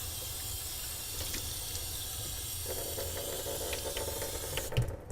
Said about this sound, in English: let me go ahead and rinse this off for you with the clean water